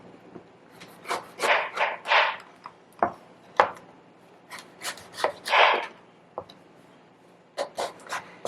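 A knife splits fresh, washed red peppers and scrapes out their seeds on a cutting board, giving a series of close, irregular cutting and rubbing strokes with short pauses between bursts.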